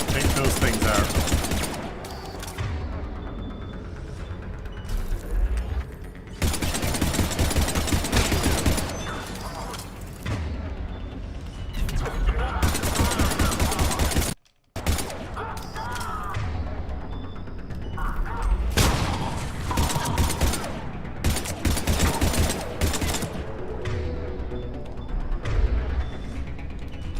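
A Mass Effect 3 firefight fills the air with rapid, dense bursts of gunfire and mechanical clatter that go on almost continuously. There is a brief gap midway, and voices occasionally break through the shooting.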